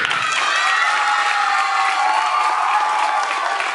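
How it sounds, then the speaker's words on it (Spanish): A crowd applauding and cheering, loud and close, with a sustained roar of voices and shouts, children among them, over steady clapping throughout. "Felicitaciones, un aplauso."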